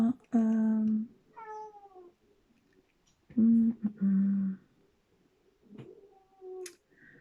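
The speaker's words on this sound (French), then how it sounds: "Un chat qui miaule." A cat meows several times in drawn-out, wavering cries, with pauses between, fairly close and clear.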